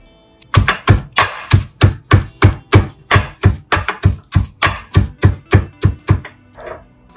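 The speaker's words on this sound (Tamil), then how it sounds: "இப்போ இந்த ஐட்டத்தை எல்லாத்தையும் மறுபடியும் சேர்த்து இடிச்சுக்கலாம்." Curry leaves and spices are pounded together, about twenty loud, evenly paced thuds close by, followed by a brief softer scrape at the end.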